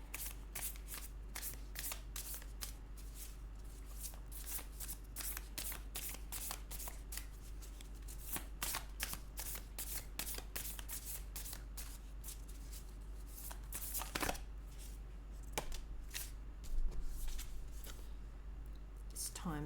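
Moonology oracle cards shuffled by hand, a fast, continuous riffle of crisp flicks and slaps, close and steady, with a soft constant hum underneath.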